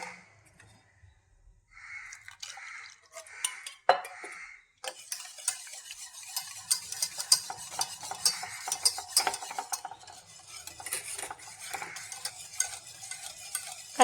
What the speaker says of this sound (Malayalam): പാൽപ്പൊടിയും പഞ്ചസാരയും മുട്ടയും കൂടി നന്നായിട്ട് മിക്സ് ചെയ്യാം.